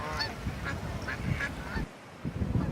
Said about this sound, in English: there's a lot of birds out there today